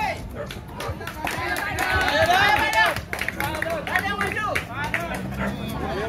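Scattered applause and crowd chatter at a Kintamani dog contest in Bangli, Bali, with dogs barking and voices talking over the clapping.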